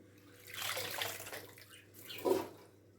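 Running water rinsing sandy food in a colander, heard as two soft rushing, splashing bursts fairly close by with no talking.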